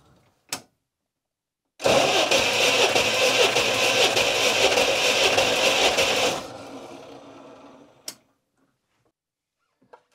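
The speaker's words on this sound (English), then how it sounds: "So pedal to the metal and then let it crank." The engine of a UAZ 452 Bukhanka van cranks during a compression test with the throttle held wide open. A faint click comes first, then about four and a half seconds of loud steady starter churning that drops to a weaker whir and stops, followed by a couple of sharp clicks.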